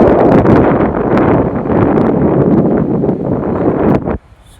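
Gentle wind blowing at Baguran Jalpai sea beach, a sandy seashore, heard as steady, loud broadband buffeting against the microphone that cuts off sharply near the end.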